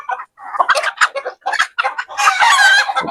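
A Kelso and Johnnie Jumper broodcock in a backyard clucks in rapid choppy bursts close by, then lets out a loud drawn-out crow.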